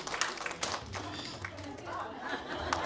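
Clapping from the audience at a folk song contest award ceremony, steady crowd applause mixed with chatter and voices, moderately faint and continuous through the moment.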